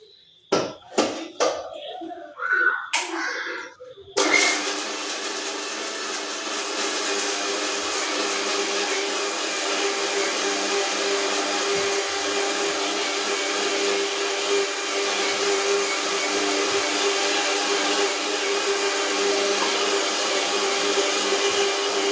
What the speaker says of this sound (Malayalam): അപ്പം ഇതൊന്ന് അടിക്കട്ടെ. നല്ലൊരു വലിയ മാങ്ങയാണ്, ഒന്ന് അടിക്കട്ടെ.